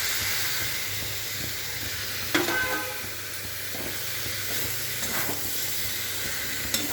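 Fried onion and capsicum are stirred into a cooked spice mix, making a loud, continuous close-up sizzle and hiss with a few scraping strokes of the spatula.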